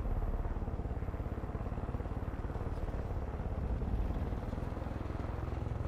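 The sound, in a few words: helicopter in video game Far Cry 5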